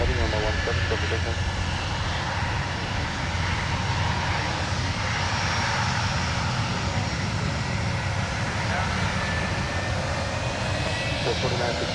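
An airliner's jet engines roar continuously at Minneapolis–Saint Paul airport, a broad steady rumble heard from a spotting position, with faint radio chatter beneath.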